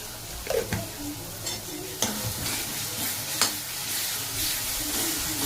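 Ginger garlic paste sizzles steadily in hot oil in a pan, a loud continuous hiss broken by a few scraping stirs of a spoon.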